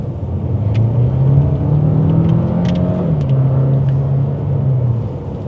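A 2026 Renault Duster with a four-cylinder engine drives along with a steady, smooth low engine drone that rises slightly in pitch, then eases, heard from inside at moderate loudness without speech.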